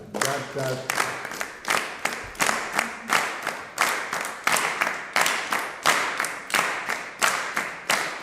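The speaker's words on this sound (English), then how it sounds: "You clap twice as fast." A group claps in an even, quick rhythm, about two claps per second, each sharp and close, keeping a steady doubled tempo with a few voices faintly underneath.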